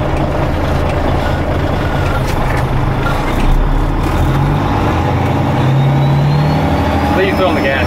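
Volvo tow truck engine revving under load while reversing, a loud, steady diesel drone with rising revs and a brief hiss near the end; voices can be heard over the engine.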